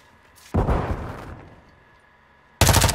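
Two loud, close bursts of rapid gunfire from the video game Modern Warfare 2, the first trailing off into an echoing decay before the second burst begins.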